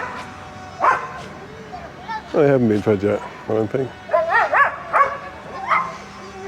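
A dog in Paphos old town barks and yips several times in short bursts, fairly close, with a few whimpering notes, while a person talks nearby.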